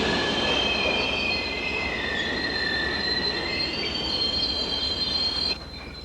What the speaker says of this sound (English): He made his way to the controls and pulled the emergency brake.